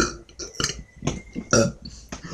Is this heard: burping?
yes